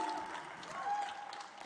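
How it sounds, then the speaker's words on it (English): Short burst of audience applause at a marketplace and e-commerce conclave, a soft, steady patter of many hands in a hall, heard briefly at a moderate distance. "I think we should have a louder applause from your side at least."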